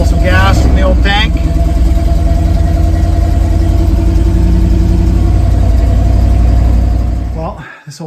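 Old square body farm truck engine idling steadily after a fuel pump fix, a loud continuous rumble that holds for about seven seconds before dropping off, with brief voices near the start.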